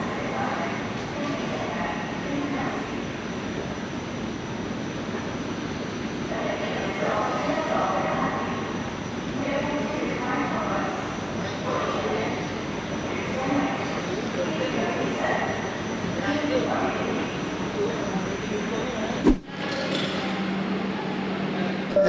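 A Palembang LRT light rail train arrives at a station with a steady, loud rumble and rolling noise throughout. A sharp click or clunk sounds near the end.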